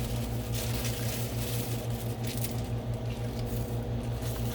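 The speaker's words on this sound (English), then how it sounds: "I'm gonna go ahead and show you how to put the vegetable in." Vegetables are dropped into a simmering pot of Mama ramen noodle soup, giving soft wet squishing and patter over a constant loud bubbling and stove hum.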